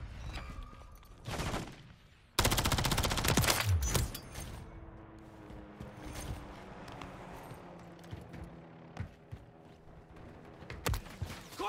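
Gunfire in the video game Call of Duty, a sudden loud burst of rapid shots followed by scattered lighter pops and a steady background din, with a few sharp cracks near the end.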